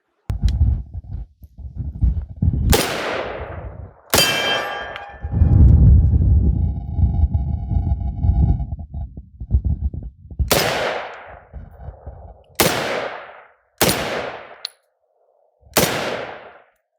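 A Ruger Mini-14 rifle fires about seven sharp, loud shots, spaced irregularly with a few seconds between some, each ringing briefly, with outdoor rumble and handling noise between them.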